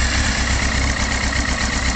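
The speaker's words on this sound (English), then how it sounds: "Start the engine." Yamaha YZF R6 motorcycle from 2000 idling steadily after starting, a constant close engine drone with no speech.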